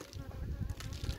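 A caught honeybee swarm in a bait location drones with a steady, close buzzing, a low continuous hum with fluttering pulses that holds throughout the short stretch.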